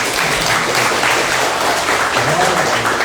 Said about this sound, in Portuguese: Vamos dar uma salva de palmas para Deus.